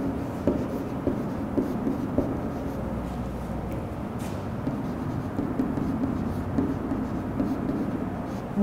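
Writing on a board during a fourth-grade math lesson taught in Turkmen makes a steady, soft scratching with small ticks and taps that continues throughout, fairly close and low in level.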